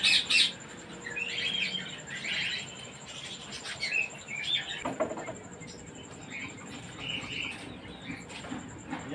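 Birds chirp and tweet in outdoor pens holding pigeons and chickens, with bright calls scattered over steady background noise for the whole stretch.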